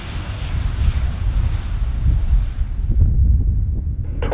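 Strong gusting storm wind buffets the microphone at Bristol airport during Storm Dudley, a loud continuous roar that surges and eases, with no speech.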